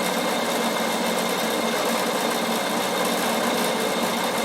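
A Bernina embroidery sewing machine stitches a small floral pattern through Mylar at full speed, giving a steady, loud, fast mechanical whir and rattle that runs evenly throughout without talk.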